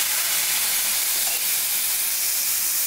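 Sour yogurt (curd) goes into a hot pan with ginger and green chilli, setting off a loud, continuous hiss and sizzle that stays even and close for the short stretch.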